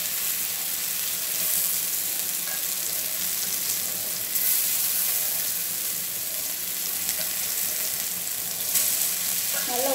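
Masala-coated elephant foot yam fries in hot oil, giving a constant, dense sizzling hiss at close range with faint stirring scrapes, and nothing else is heard.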